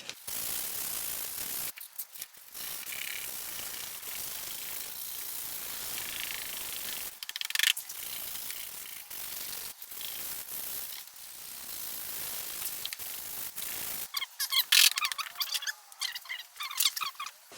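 A 220 grit disc sands the faded, yellowed plastic headlight of an Audi A3, stripping the old protective coating with a steady, bright scratchy hiss that stops briefly a few times and then resumes, with a rougher, more uneven rasp toward the end.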